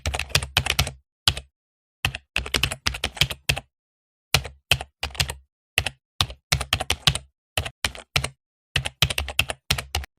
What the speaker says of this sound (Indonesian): hanya suara ketikan keyboard